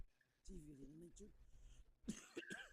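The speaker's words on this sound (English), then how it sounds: "I am coughing a lot" A couple of short, harsh coughs near the end, close to the mic, after a brief stretch of a person talking.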